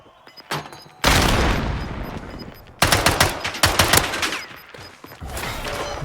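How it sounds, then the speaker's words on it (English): Automatic gunfire in a Warzone match, with bursts rattling through a wall: a short burst, then two long, loud sustained volleys of rapid shots with brief gaps, closing on another burst. "Trying to shoot through the wall"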